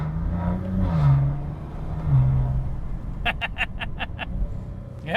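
A Maserati Ghibli S Q4 with ZF automatic accelerating gently, a low engine drone rising and shifting under a faint voice, followed by a quick run of sharp clicks, heard from inside the cabin.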